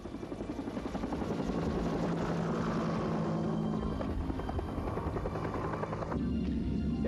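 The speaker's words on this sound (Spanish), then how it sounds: "El comandante ordena que un helicóptero Sea King lo investigue." A Sea King helicopter's rotor thumps steadily with a loud engine whine, holding close and strong throughout, then shifting in tone near the end.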